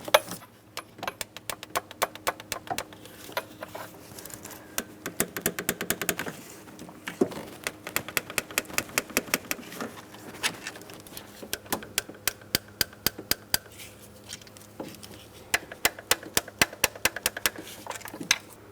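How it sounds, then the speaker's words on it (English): A torque wrench clicks over and over while valve cover bolts are tightened on a 2008-2016 Chrysler Town & Country, crisp close ratcheting clicks in bursts with short pauses, over a faint steady hum. "I finished torquing all 8 pieces of hardware"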